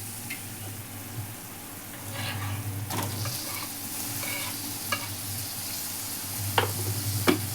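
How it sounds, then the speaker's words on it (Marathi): Onion frying in a pan with curry leaves and salt sizzles steadily while a spoon stirs it, with occasional scrapes and clinks against the pan, close up and fairly quiet. "कांदा चांगला हलवून घेऊ."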